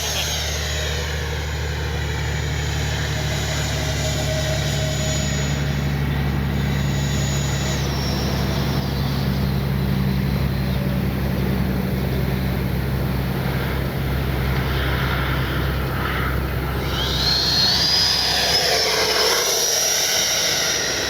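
An FMS Avanti V3 70mm electric ducted-fan RC jet flying with a KM Models afterburner, a steady roaring whine that holds constant and shifts pitch near the end as the plane passes, loud outdoors with no talk.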